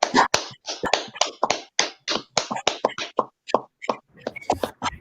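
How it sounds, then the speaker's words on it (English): A few people clap their hands in a room, sharp, uneven claps in a scattered run that thins out and grows sparse toward the end. "Clap it up"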